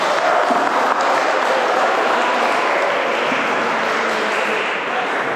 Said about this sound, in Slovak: Tak im prosím vás, zatleskajte.